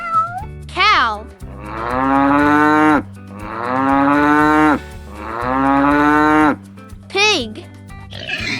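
A cow moos in three long, loud, drawn-out lows, framed by shorter higher calls at the start and end, close and resonant.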